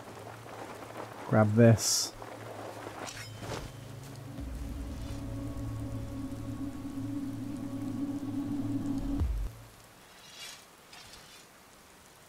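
Rain falls in heavily modded Skyrim as a faint, soft, steady patter in the background, with a brief spoken line near the start and other game sounds layered over it.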